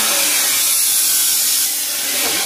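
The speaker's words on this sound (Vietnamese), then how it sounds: "Đây chỉ tí anh con khoan thẳng cho xem nhá" A drill bit boring through stainless steel gives a steady, loud high-pitched grinding whine. It holds constant for the whole stretch and eases slightly near the end, with no voices.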